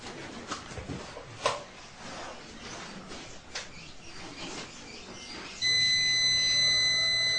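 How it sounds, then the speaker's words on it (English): An electrical overload alarm on a home solar power system starts after a stretch of quiet room noise, then sounds as a steady, loud electronic tone that continues to the end. "It sounds an alarm."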